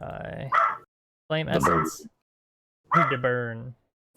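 A dog barking in a room during a tabletop role-playing session, a few short barks mixed in with speech.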